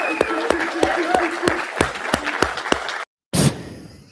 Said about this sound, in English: Can we give him a good round of applause?